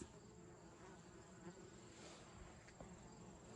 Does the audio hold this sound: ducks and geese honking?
no